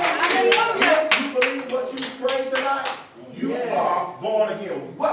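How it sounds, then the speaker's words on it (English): A church congregation claps along under loud voices, sharp repeated hand claps cutting through singing or calling for a few seconds before tapering off. "let's clap it up for us"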